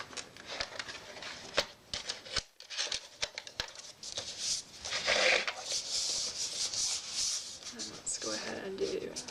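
Sheets of scrapbook paper being handled and rubbed on a work surface, a dense run of papery rasps, rustles and sharp taps close by, growing into a steadier swishing rub toward the end.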